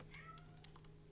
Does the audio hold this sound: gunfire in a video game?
no